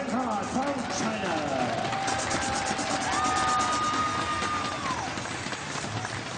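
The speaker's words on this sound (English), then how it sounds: "Ladies and gentlemen, a round of applause, please, for Wang Han from China" Spectators at a 3m diving World Series event in Windsor applaud diver Wang Han, a steady broad wash of clapping continuing for several seconds in a large venue, with a few tonal whistles or calls and some talk mixed in.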